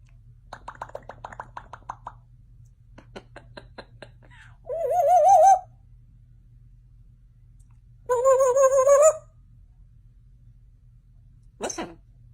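A pet parrot in a home gives a few short bursts of vocalizing: brief warbling calls and a sharp squawk spaced across the clip, with faint clicking chatter between them and no talk.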